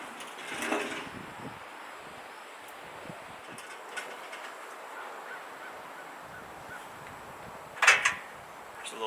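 A Razor portable griddle rolls along on its handle with a steady low rumble, and a couple of squeaky rattling knocks come through near the start and again near the end.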